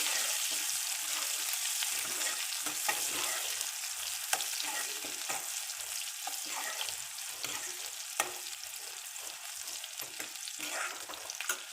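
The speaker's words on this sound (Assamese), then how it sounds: "পিঁয়াজখিনি মই ধুনীয়াকৈ ভাজি লৈছোঁ অলপ" Chopped onions frying in hot oil for an Assamese onion fish curry with kawai fish, a steady close sizzle broken by frequent scraping stir strokes and clicks.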